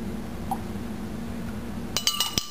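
A spoon clinks against a glass while stirring strained iced tea with lemon juice: a few quick, bright clinks in close succession near the end, following a quiet stretch of low room hum.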